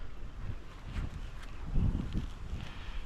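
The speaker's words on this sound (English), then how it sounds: "It's a very windy day" Steady wind buffets the microphone with low rumbling gusts and faint rustling, no voices.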